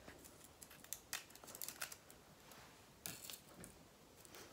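Scissors snipping crepe paper into a simple leaf shape, a series of soft, close, crisp cuts in irregular clusters with quiet pauses between, faint overall, with no talk.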